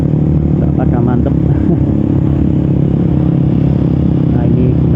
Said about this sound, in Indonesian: kita review suara knalpot Winze mau nyalip